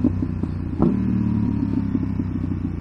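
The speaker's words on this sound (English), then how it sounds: "Let me rip it for you guys under the under this overpass, so you can hear the exhaust a bit." A 2019 BMW F850 GS motorcycle engine rumbles close by under an overpass with a low throaty exhaust, a sharp rev blip near the start, then a steady idle with clattering pulses.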